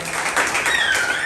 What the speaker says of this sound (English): Give St. Kitts and Nevis a round of applause